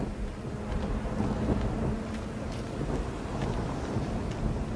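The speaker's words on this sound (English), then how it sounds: "Belfry wasn't kidding about this storm." A thunderstorm in the video game Gotham Knights, a dense, steady roar of wind and rain with low rumbling, unbroken for the whole stretch.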